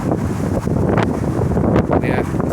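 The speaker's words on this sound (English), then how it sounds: "So it's getting quite windy out." Steady wind buffets the microphone outdoors on a breezy day, a continuous low rumbling roar with gusty swells and no voices.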